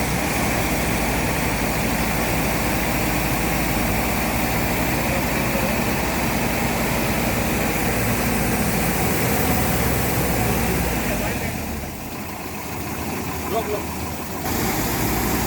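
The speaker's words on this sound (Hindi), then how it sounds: "अभी मैं एक्सीलेटर दूंगा" Truck-mounted sewer suction and jetting machine with a 3000-litre tank, its heavy engine running loud and steady close by for most of the stretch, then dropping lower near the end before rising again.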